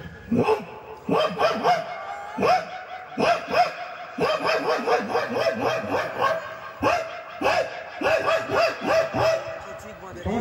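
A voice imitates dogs barking and yipping in repeated short bursts, rhythmic and close, continuing for several seconds.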